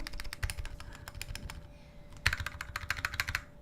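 Steady keystrokes on a Lunepoker U60 custom mechanical keyboard, close and clear, with an uneven typing rhythm, a brief pause midway, then a denser burst of clacks including a heavier stabilized key.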